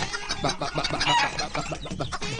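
Hens cluck in quick, irregular bursts close by, several birds overlapping in a busy, continuous stream of short calls, with no talking.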